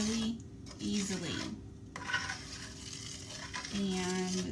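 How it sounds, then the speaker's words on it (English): Caramel apple dip is stirred constantly in a pan as it comes to a boil, close scraping and rubbing strokes over a soft bubbling sizzle, with short pauses between strokes and no talking. "And I'm going to start stirring"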